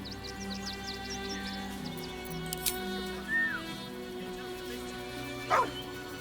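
Scratch, a dog in the video game Baldur's Gate 3, gives a few short yips and barks at moderate distance, spaced out over a quiet ambient background.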